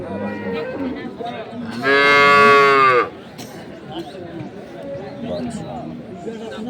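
A dairy cow or calf at a cattle market near Dhaka lets out one loud, drawn-out moo lasting about a second, while people nearby talk and a market crowd murmurs throughout.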